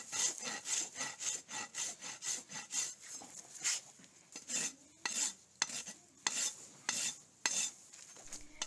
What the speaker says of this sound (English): Notice I'm using the smooth side of the rasp to do the finish work.